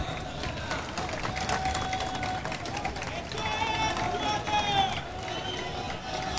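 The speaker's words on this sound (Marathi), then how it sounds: "जोरदार टाळ्या." Sustained, energetic applause at a political campaign rally in Kalyan Rural for the release of a work report, a dense steady patter of many hands with cheering voices mixed in.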